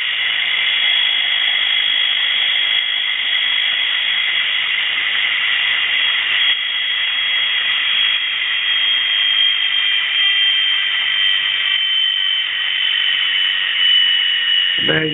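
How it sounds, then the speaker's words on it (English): Low battery warning beeping on a Blade mSR micro helicopter, a steady loud high-pitched tone running continuously for the whole stretch over the whine of the rotor. "Low battery warning going at"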